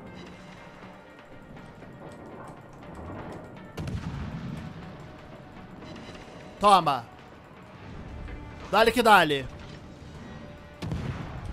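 A destroyer in a naval combat video game fires high-explosive shells, two bursts of rapid gunfire booming out mid-clip, loud and close, with a player talking excitedly over the action.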